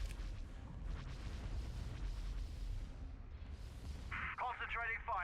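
Weapon fire and rumbling blasts from the space strategy game Empire at War Expanded roll through continuously, with a radio-style voice cutting in near the end.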